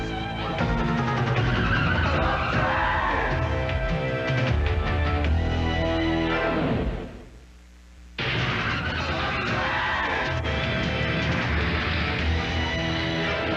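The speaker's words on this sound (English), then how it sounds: "The superstars of monster truck racing back on the lightning quick Lebanon Valley Speedway" Monster trucks race on the Lebanon Valley Speedway in West Lebanon, New York, with loud, continuous engine roar and tire noise that briefly dips into a quieter whoosh before the racket resumes.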